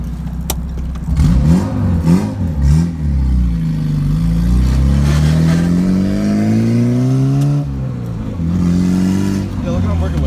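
Honda Civic making 500 hp on slick tires accelerating hard, engine revving loudly up through a long rising pull with tires spinning, close and dominant, then easing off near the end.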